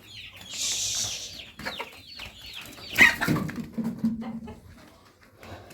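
Chickens kept in a cleaned battery cage coop, with high chirping calls and clucks near and moderately loud, overlapping a brief clatter of movement.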